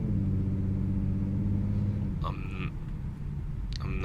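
A Ford Mustang 3.7 V6 with Borla ATAK exhaust, shorty headers, H-pipe, cat delete and resonators idles at a light, heard from inside with windows up as a low, steady droning rumble, with a few brief squeaky sounds near the end.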